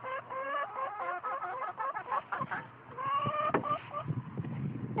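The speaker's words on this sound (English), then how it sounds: "And there are happy, healthy hens in there." Hens cluck close by inside a straw-lined chicken tractor coop on pasture, a busy run of chattering, overlapping clucks and calls lasting several seconds.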